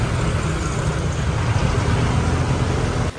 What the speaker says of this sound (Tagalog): Sinasalubong na po ng mga tricycle, e-trike at mga e-bike.